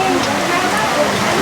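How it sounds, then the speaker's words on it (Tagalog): Sudden heavy rain pours down at a rural provincial fiesta near a chapel, a dense, steady broadband roar of downpour filling the whole moment, with voices faintly mixed in. "Biglang bumuhos siyang napakalakas na ulan."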